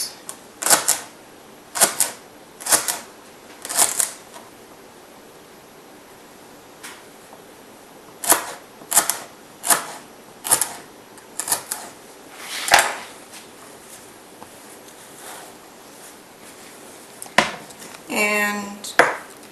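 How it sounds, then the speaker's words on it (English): A knife chopping celery into little chunks, heard as close, crisp clusters of chops separated by short pauses, with a quick rattling run near the end. "You want to cut it up into little chunks."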